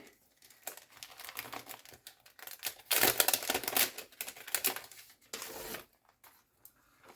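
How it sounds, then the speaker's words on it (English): Crisp, irregular rustling and crinkling of planner paper close by, in bursts of varying loudness with short pauses, loudest in the middle. "excuse the rustling"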